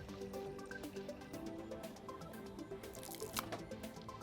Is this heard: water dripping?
yes